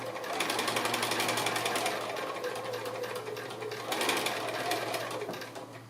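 A sewing machine stitches a round drawstring bag made from fabric strips, running as a steady, close mechanical whir with a fast regular needle chatter and brief changes in speed.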